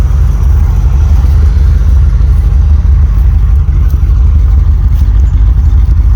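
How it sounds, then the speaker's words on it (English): A Holden HQ with a V8 engine runs close and loud, a heavy, deep rumble that holds steady throughout with a rough, burbling texture and no talking. "Sounds like proper V8."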